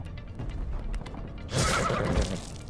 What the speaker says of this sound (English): The horse rears up in fright.